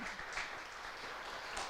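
Applause at a charity gala, a soft, fairly distant patter of many hands clapping at an even level throughout.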